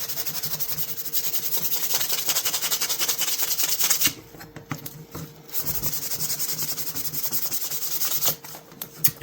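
Hand sanding along the edges of an antique hammer knife blade with 600-grit paper, a steady rhythmic rubbing hiss with short pauses between strokes, close and alone without talk.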